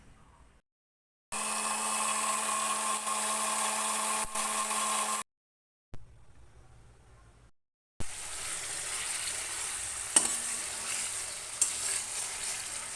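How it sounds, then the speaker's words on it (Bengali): Tomato puree fries in a pan and is stirred, making bursts of loud close sizzling broken by short silent gaps, with occasional scrapes of a utensil. "এদিকে টমেটো যেটা পিউরি বানালাম ওটা এখানে দিয়ে একটুখানি নাড়াচ্ছি।"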